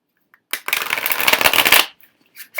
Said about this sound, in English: As you can see, it shuffles like a dream.